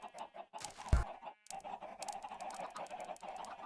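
Chickens cluck in the Minecraft video game, a few short clucks and squawks close by, with one sharp louder burst early on and soft scratchy game noise beneath.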